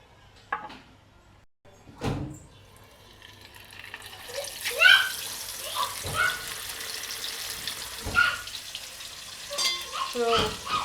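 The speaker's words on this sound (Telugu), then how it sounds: "ఫ్రై చేసుకుంటున్నాము" Fish pieces frying in hot oil in a home kitchen, a steady sizzle with clinks and handling noises, close and moderately loud with no talk.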